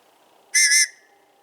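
A single loud, shrill survival whistle blast lasting about a third of a second, sharp and piercing against a quiet background.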